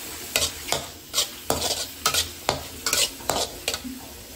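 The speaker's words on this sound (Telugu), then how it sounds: "నేను ఒకసారి మొత్తం కలిపి ఫ్రై చేసేసుకుంటున్నాను" Carrots, beans and chilli garlic paste stir-fried in a hot pan, with about ten sharp spatula strokes falling in an uneven rhythm over a steady sizzle, close up and without talk.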